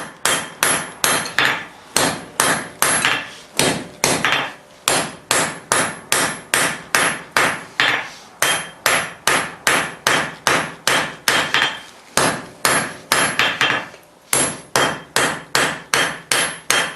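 Hot steel being upset and forged on an anvil while making bolt jaw tongs: a long, steady run of loud, sharp hammer blows ringing out alone in a fast, even rhythm, with a few brief pauses between bursts.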